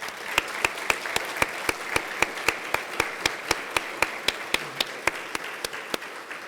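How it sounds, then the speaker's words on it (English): A single person clapping in a steady, even rhythm at an academic excellence banquet, roughly three or four sharp claps per second close to the microphone, as the steel drum ensemble leaves the stage, over a faint background hum of the hall. "join me in a round of applause for the HCS Steel Drum Ensemble"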